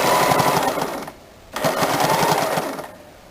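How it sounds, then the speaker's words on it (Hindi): A sewing machine stitches across the folded joining of a lined blouse in two rapid mechanical bursts, a short pause between them, close and fairly loud. "आगे की तरफ से जॉइनिंग पर यहाँ पर सिलाई करेंगे"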